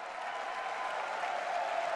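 An audience at an Apple event applauds in a steady, even wash of clapping, heard somewhat distant and without voices over it.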